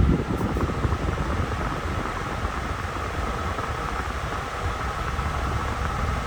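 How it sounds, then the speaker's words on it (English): The air conditioner fan in a 1964 Ford Galaxie 500 runs with a steady, even broadband whoosh. A low rumble sits under it, and the sound holds constant at close range from start to finish. "And the air conditioner."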